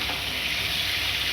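Vegetable stems and potatoes fry in a wok with a loud, even, continuous sizzle heard up close.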